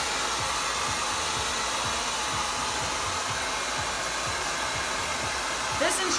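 A handheld blow dryer runs steadily while drying hair during a medium-length blowdry, a constant close whooshing hiss with faint brushing movements and a small bump near the end.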